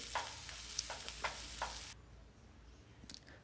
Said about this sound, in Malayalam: നല്ലപോലെ ചൂടായി വന്ന ശേഷം നമ്മൾ അതിലേക്ക് വലിയ ഉള്ളി പച്ചമുളക് കൂടി അത് നല്ല പോലെ ഇനി വഴറ്റിയെടുക്കാം.